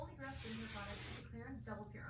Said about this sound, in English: I'm going to spray the top with some